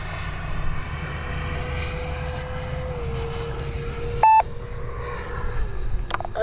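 Freewing 70mm ME 262 RC jet making a low pass with its landing gear down, a steady ducted-fan whine that shifts pitch as it goes by, with a short electronic beep partway through and no voices.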